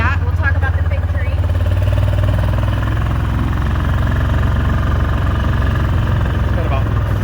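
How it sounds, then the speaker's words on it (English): A motor runs steadily at a farm in the garden, a loud continuous low rumble and vibration, with faint brief chirps near the start and end. "engine noise will drown it out"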